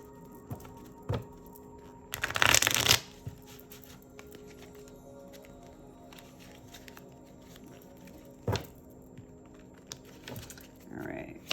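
A clarifying deck of tarot cards is shuffled, giving one dense riffling burst of card flutter lasting under a second. Sparse light taps and clicks follow in a quiet room.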